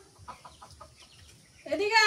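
Chicks clucking while pecking at flour in a home yard: a run of soft, evenly spaced clucks, then a louder, drawn-out harmonic call near the end. A faint voice is also in the background.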